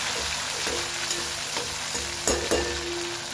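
Chillies sizzle and fry in a hot pan of oil for a samosa filling, a steady loud crackle broken by scraping stirs and a few sharp spatters, with no voices.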